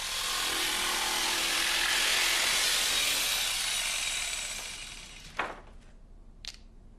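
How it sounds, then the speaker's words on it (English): A jigsaw cuts along marked lines through a laminate flooring board, a steady dense buzzing rasp that fills the first several seconds, then tapers off, followed by a couple of short sharp knocks. "Cut along these lines with the jigsaw,"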